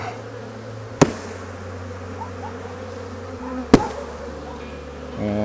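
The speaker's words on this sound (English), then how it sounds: "kind of shake the bees into the hive there" Honeybees hum in a steady, low drone close by, with two sharp knocks as the hive's bottom board is tapped to shake the bees in. No voices.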